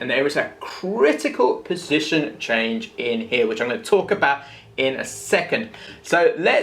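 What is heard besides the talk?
No everyday noise stands out behind the speech.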